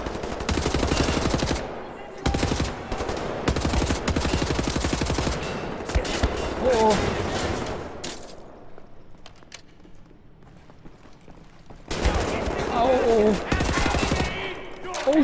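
Bursts of automatic gunfire from the shooter game Wolfenstein: The New Order, loud and dense in rapid volleys, broken by a quieter stretch in the middle before firing picks up again.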